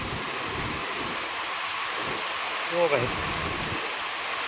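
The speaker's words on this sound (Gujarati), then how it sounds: "આ બધું પાણી ચાલુ થઈ ગયું, તલાવ ઘોડે પાણી જાય છે" Rainwater after a heavy downpour rushes steadily past a farm toward a pond, a continuous broadband wash of flowing water heard up close, with someone briefly speaking near the end.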